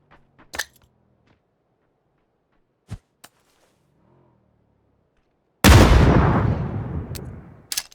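Grenade blasts in the PUBG battle royale game: a few sharp distant pops and thuds, then one big close explosion that booms and slowly decays into rumble, followed by a final crack.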